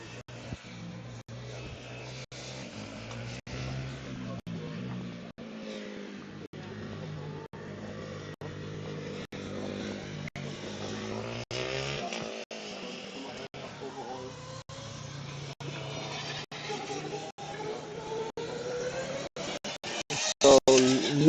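A Formula Student race car from UPC Manresa Dynamics runs during an endurance event, its engine a steady low drone under a continuous wash of background noise, growing louder near the end.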